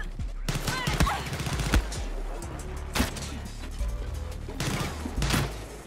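Pistol fight in the video game Far Cry 6, a few sharp gunshots scattered over several seconds with rumbling action noise between them, fairly near, with no talking.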